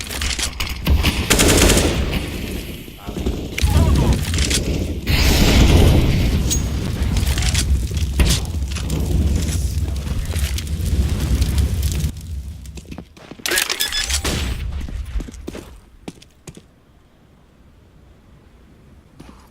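Video game combat with a flashbang grenade thrown amid sustained machine-gun fire, booms and explosions, loud and continuous before thinning out into a few scattered bangs and quiet at the end.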